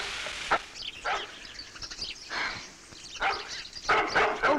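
A man barking like a dog, a voice imitating a dog with about five separate rough barks spaced roughly a second apart, close and fairly loud.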